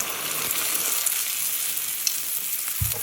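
Ripe-banana unniyappam batter fries in oil in an appam pan, a steady close sizzle and crackle with a few faint clinks, no voices.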